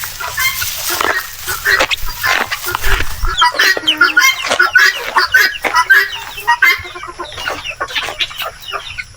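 Native chickens on a farm cluck busily and continuously at close range, with overlapping calls and a few louder squawks, and no talk over them.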